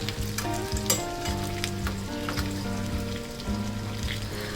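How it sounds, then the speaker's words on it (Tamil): Cashews and other ingredients roast in ghee for pongal, giving a loud, continuous, close sizzle with a few stirring clatters and a faint steady tonal hum underneath. "ஓரளவு எல்லாமே இந்த நெய்யில் வறுபட்டுறணும்."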